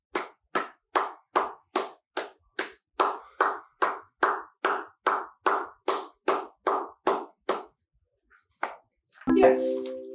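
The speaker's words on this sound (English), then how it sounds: "Sit for 10 seconds while you clap your hands." Hands clap in a slow, even rhythm, about fifteen sharp claps close by during a dog relaxation exercise, then a pause and a short voice at the end.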